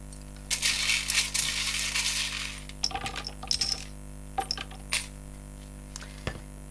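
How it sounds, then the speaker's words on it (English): Small metal charms are shuffled and mixed in a bowl at close range, producing a dense jingling rattle that thins into scattered clinks and taps against quiet room tone. "let me just move that while I shuffle and mix up my charms really well."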